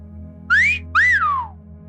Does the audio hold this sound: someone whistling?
yes